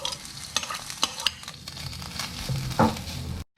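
Grated coconut stir-fried in a pan over low heat for coconut chutney, with a soft continuous sizzle broken by several sharp spatula scrapes and knocks against the pan, close and without talk.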